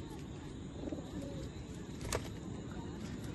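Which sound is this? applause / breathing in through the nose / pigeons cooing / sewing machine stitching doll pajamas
pigeons cooing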